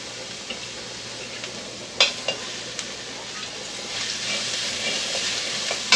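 Oil hisses and sizzles in a hand-made Chinese wok while moo shoo pork cooks, a steady frying hiss broken by a few sharp stirring clinks and swelling louder near the end.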